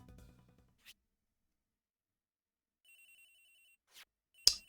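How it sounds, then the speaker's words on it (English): A phone rings in the video game Ace Attorney Investigations: Miles Edgeworth. Short, faint electronic ring tones come in brief bursts after near silence, with a few soft blips and a sharp click at the end. "Agent Hicks' phone! It's ringing from somewhere, sir!"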